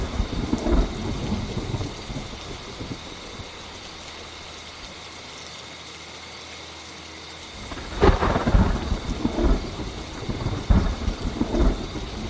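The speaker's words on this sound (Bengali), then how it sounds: "বৃষ্টি সেই সমানতালেই পড়ে চলেছে" Heavy rain with rolling thunder on a stormy night, a steady wash of rain broken by loud, close thunder crashes and rumbles in the second half.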